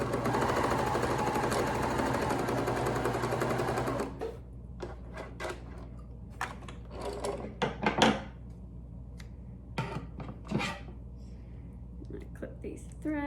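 A sewing machine stitching neck gaiter mask fabric runs in a steady rapid chatter for about four seconds, then stops, followed by clicks, fabric rustles and handling knocks.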